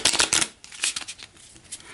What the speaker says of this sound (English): I'm just going to shuffle those back into the deck.